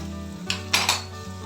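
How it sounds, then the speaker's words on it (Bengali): Poppy seed paste fries in oil with a soft background sizzle, while a few quick metal scrapes of a spatula stirring it against the pan ring out clearly and close by. "এটা খুব ভালো করে একটু ভেজে নেব পোস্ত থেকে তেল ছাড়া পর্যন্ত মশলাটা আমি নেড়ে নেব"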